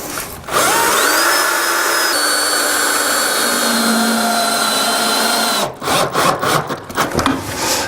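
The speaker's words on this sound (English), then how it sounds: "not tightening up the screw too much, just so that it's snug and in position" A power drill whines steadily as it drives a screw into timber for a plinth base track, rising briefly in pitch, then stops, followed by short clicking handling noises.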